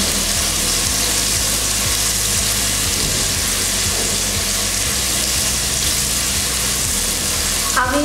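Onions fry in hot oil for mutton biryani, a loud, continuous sizzle with occasional stirring scrapes, close up and steady for the whole stretch.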